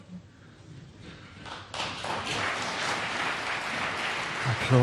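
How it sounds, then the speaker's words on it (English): Applause from a snooker audience at the Masters, starting softly and swelling into sustained indoor clapping that grows louder toward the end, with a few faint murmurs. "Applause there, but not sure how pleased Judd will be with the position on the pink."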